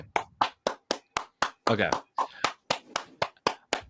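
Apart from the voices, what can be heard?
person clapping hands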